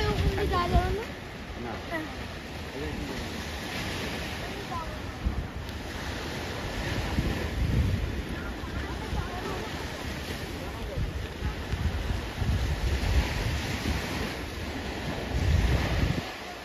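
Sea waves at Bakkhali beach wash in as a broad, continuous surf roar mixed with heavy wind buffeting the microphone, swelling and easing over time.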